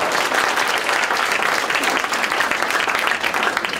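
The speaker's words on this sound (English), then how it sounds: "Can you give me a round of applause for that?" An audience at a talk on overcoming the fear of speaking applauds, dense, loud and sustained clapping from a full crowd throughout.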